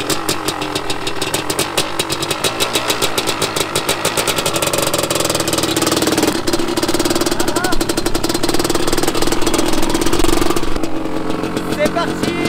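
A 500cc CR motorcycle engine runs loud and close as the ride begins, a continuous rough, rapidly pulsing two-stroke roar that holds steady and swells slightly, with some talking mixed in.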